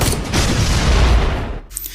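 Gunfire erupts in a film fight scene with a drug boss: a dense, loud, booming volley of shots that cuts off abruptly, followed by a faint after-sound.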